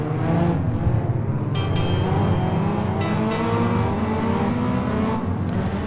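Stock rod race cars roll away at the start of a race at Hednesford, a dense continuous engine roar with rising and falling pitch as several cars accelerate together at mid distance.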